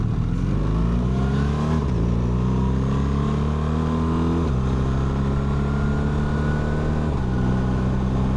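A BMW 1300-series motorcycle with the Automatic Shift Assistant pulls away uphill, its engine revving up in steps through automatic gear changes, loud and close throughout.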